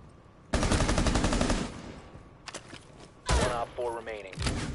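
Bursts of automatic gunfire in Rainbow Six Siege: a long rapid rattling burst up close, then shorter bursts and scattered shots, mixed with a voice talking in the middle.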